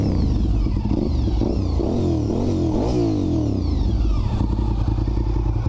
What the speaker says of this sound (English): The gear-driven cam V-twin 1000cc bike sounds so good.